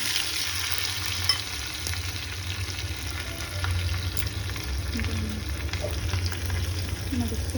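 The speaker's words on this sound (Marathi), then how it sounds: "इकडे मी बनवत आहे तडका" Tadka tempering sizzles and crackles steadily in a pan at close range beside cooking biryani, a continuous frying hiss with small pops and stirring clinks, no voices heard.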